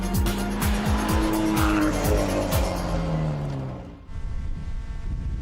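A natural gas powered car with an HKS-developed engine accelerates hard, its engine note climbing repeatedly through gear changes with loud tire squeal, then dropping away to a steady roar.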